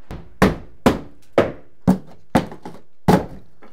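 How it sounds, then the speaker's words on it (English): Seven hammer blows land at a steady pace on wood, each one a solid, close thunk with a short decay and quiet between strikes. "Get a hammer, be sophisticated."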